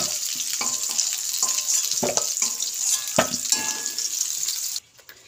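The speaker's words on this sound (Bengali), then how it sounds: "এবার আমি এঁচোড়টা ভেজে নেব।" Young jackfruit frying in a wok in hot fat, a steady loud sizzle with scraping stir strokes throughout, cutting off abruptly near the end.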